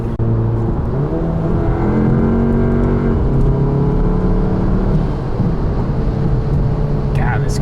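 A Volkswagen GTI Mk7 with an ECU and TCU tune and 034 dogbone mount inserts pulls hard from inside the cabin, a loud engine drone rising in pitch through the gears with a clear shift break.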